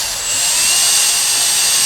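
Power drill boring slowly into old galvanized metal on a boat trailer, outdoors in an open field; a steady, loud high-pitched grinding whine holds unbroken and close throughout, with no talk.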